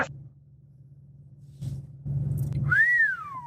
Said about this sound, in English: This man literally whistled